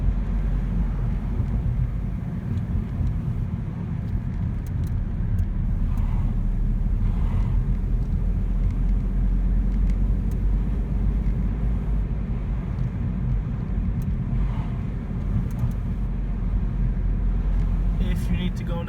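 A car climbs an uphill road near Middlesex University in the Hendon and Mill Hill driving test area, its engine a steady, close, low drone with road rumble running unbroken throughout.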